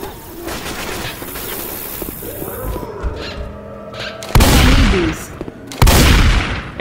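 Rapid bursts of gunfire from the zombie shooter game Left 4 Dead 2 at a carnival, sustained and busy throughout, with two loud, close volleys near the end.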